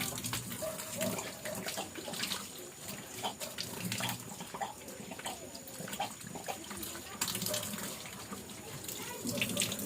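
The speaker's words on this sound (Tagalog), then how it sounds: "Kusog ni ang tubig karon." A tap runs hard in a steady, strong gush of water near at hand, continuous through the whole stretch with some clatter and background noise mixed in.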